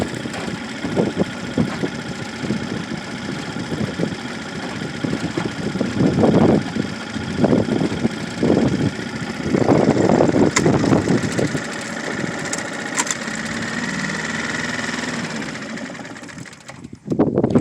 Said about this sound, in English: Outboard, a little noisy